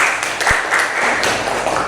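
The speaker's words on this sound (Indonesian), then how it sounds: "Boleh kasih tepuk tangannya untuk kelompok 2." Classroom of students clapping for a presenting group, a dense, even patter of applause lasting the whole moment, fairly loud and close with a few sharper taps standing out.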